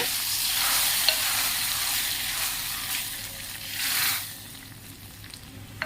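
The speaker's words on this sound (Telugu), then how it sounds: "ఇంకా దీనికి పోపు పెట్టేస్తాను" Hot tempering spooned over cooked dal in a bowl: a steady close sizzle that flares briefly near the end, then settles, with a faint clink of utensils and no talking.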